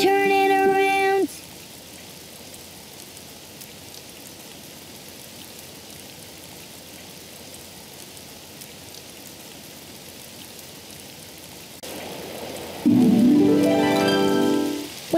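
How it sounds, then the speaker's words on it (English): Steady, soft rain patters continuously in the background, with brief bursts of louder tonal sound at the start and near the end. "It's raining outside."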